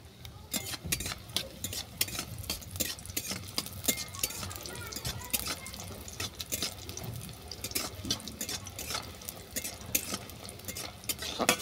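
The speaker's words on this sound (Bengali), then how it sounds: "তেল গরম হয়ে গেছে, এর মধ্যে বড়িটাকে তুলে দিচ্ছি।" Lentil dumplings (bori) fry in hot mustard oil in a wok, giving a continuous soft crackling sizzle with scattered sharper pops and stirring clatter throughout.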